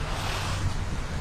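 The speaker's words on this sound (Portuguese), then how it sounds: "Tá ventando muito, tá voando" Strong wind roars and buffets against the microphone outdoors beside a canal under cleanup, in a continuous low rumble with a steady rushing hiss and no voices.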